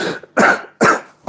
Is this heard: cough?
yes